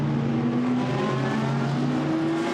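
GT race cars, including a green Lamborghini, roar around the Misano circuit during a Blancpain GT Sports Club qualifying race, with steady, loud engine drone and shifting pitch as the cars accelerate down the straight.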